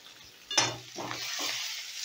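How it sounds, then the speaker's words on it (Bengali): Boiled potato and grated carrot stirred into a hot tempering of spices, with a sudden sizzle and scraping strokes of a spoon, then steady frying hiss. "এবারে গাজর আর আলুটাকে ভালো করে ফোড়নের সঙ্গে নাড়াচাড়া করে নেব মিনিট খানিকের মতো"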